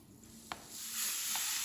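Milk, egg and sugar being stirred together by hand for Swedish kanelbullar cinnamon roll dough, a soft continuous wet mixing swish with a couple of light clicks of the utensil against the bowl.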